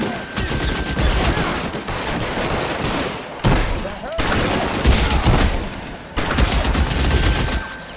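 Backup police officers fire heavily in the L.A. Noire video game, a dense, loud, continuous barrage of overlapping gunshots with brief lulls, heard close up.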